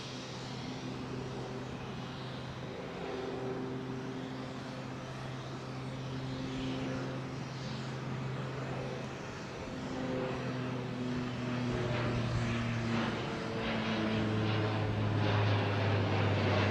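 An airliner climbing out steeply after takeoff from Heathrow runway 09R, a steady loud jet roar passing close overhead that builds toward the end.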